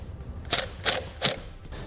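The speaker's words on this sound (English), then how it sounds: "Slide on your eyelet terminal, and then reattach the nut." A 12mm socket ratchet turns a battery terminal nut on a 2013 Kia Sportage during trailer wiring work, giving three crisp, close clicking bursts at an even pace.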